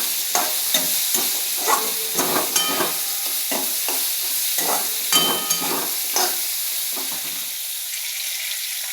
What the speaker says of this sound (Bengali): এবার উচ্ছেটা দিয়ে ভালো করে ভাজতে থাকবো যতক্ষণ না উচ্ছেটা সেদ্ধ হচ্ছে